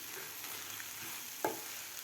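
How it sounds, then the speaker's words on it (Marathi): Methi leaves being stirred into moong dal in a pan, giving a soft, steady sizzle with faint scraping and one brief sharper clink of the spoon against the pan. "खालच्या डाळीमध्ये भाजी व्यवस्थित हलवून घ्यायची आहे"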